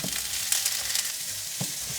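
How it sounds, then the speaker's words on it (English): Onions and sausages sizzle in a pan on a hob with a steady bright crackle, and a few soft knocks of stirring come through close up. "the onions are sizzling and I'm adding the sausages."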